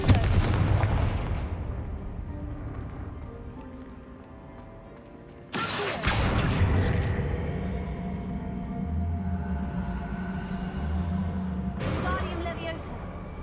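A Confringo fire spell blast from Hogwarts Legacy bursts in sharply with a loud explosive hit, followed by a sustained rumbling fiery wash and a second bright burst near the end, over game music.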